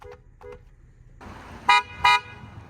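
Two short, loud car horn blasts from a 2022 Lexus RX 350 in quick succession, following a quieter stretch of faint harmonic tones and a low engine rumble.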